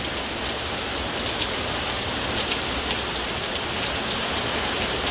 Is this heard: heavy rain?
yes